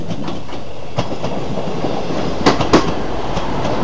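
A First Great Western train, unit 158763, passes through Barnham station, making a steady rail rumble with a few sharp clicks from the wheels crossing the joints near the end.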